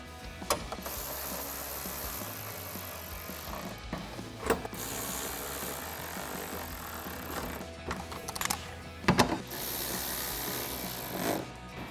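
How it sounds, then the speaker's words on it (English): A ratchet with a 10 mm socket tightening headlight bolts on a 2014-2018 GMC Sierra 1500, giving steady close rapid clicking, with occasional louder knocks and pauses between runs. "take a 10mm socket to tighten down all of your bolts."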